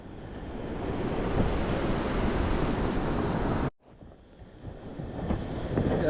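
Ocean waves surging onto a beach with a loud, continuous rushing wash and wind buffeting the microphone, briefly dropping away before the surf builds again.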